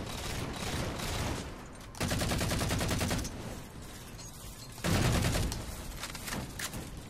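The Halo 4 scattershot fires in two loud, close bursts of rapid rattling shots, separated by quieter stretches of in-game combat noise.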